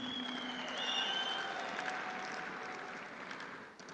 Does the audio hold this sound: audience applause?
yes